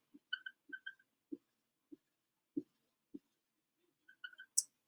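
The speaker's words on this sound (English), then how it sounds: "So I'm going to draw 7 dots around each fluorine" Pen tapping dots onto paper while writing chemistry notes, with a series of short, soft taps at irregular intervals, close and quiet, and brief squeaky scratches in between.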